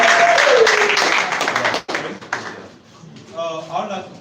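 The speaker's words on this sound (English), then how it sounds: "Can you clap for her, please?" An audience claps at a students' presentation and anniversary celebration, a dense burst of applause that rings loudly under a speaking voice before cutting off abruptly.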